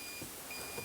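A faint, steady electronic beep tone from a Lectrify Blinker Bird electronics kit holds on quietly with soft pulses, close and thin, with no voices.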